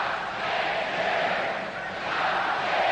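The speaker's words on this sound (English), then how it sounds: "The crowd chanting, the cup stays here" Hockey crowd at the 1985 Stanley Cup Final game between the Edmonton Oilers and Philadelphia Flyers chanting in unison, a loud, dense roar with slow rhythmic swells.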